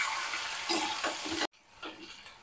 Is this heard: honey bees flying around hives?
no